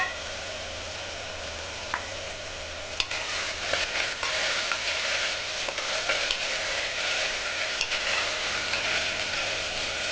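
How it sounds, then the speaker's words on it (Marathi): Cauliflower florets and peas frying in oil for Vidarbha-style masala rice, a steady bright sizzle with stirring scrapes and a few sharp clicks, close and continuous throughout. "आता मी टाकणार आहे फ्लॉवर आणि मटर."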